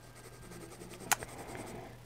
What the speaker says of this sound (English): Don't forget to turn your pencil.